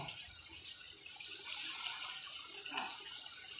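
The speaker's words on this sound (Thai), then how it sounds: "เราเพิ่มน้ำนะคะน้ำน้ำอองเรานะคะเพิ่มน้ำไปนะคะ" Water runs from a tap into a cooking pot. It starts as a quiet trickle and becomes a steady, louder pour partway through, with no talking.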